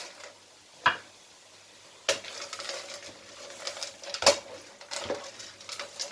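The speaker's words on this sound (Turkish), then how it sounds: "Şimdi makarnamı da koyduktan sonra makarnamla sosu güzelce karıştıracağız" Pasta being stirred into a sauce in a pan, with a few sharp clinks and scrapes of a utensil against the metal spread over the clip, close and fairly quiet.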